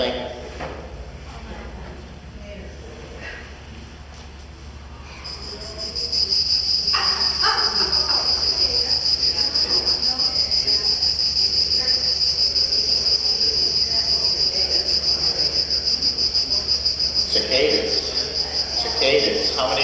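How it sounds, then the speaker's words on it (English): Cicadas set up a loud, steady, unbroken high buzzing drone that switches on partway through and carries on continuously, with a few knocks and faint voices beneath it. "Cicadas."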